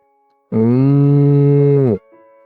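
A white water buffalo lets out a single long, deep moo lasting about a second and a half, loud and close, starting abruptly and ending with a slight downward slide.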